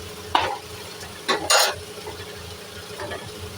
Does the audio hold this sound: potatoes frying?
yes